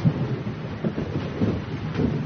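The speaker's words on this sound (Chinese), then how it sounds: "这外边下雨下的还挺大的" Heavy rain pours outside as a steady, dense wash of noise, with soft low rumbles pulsing through it.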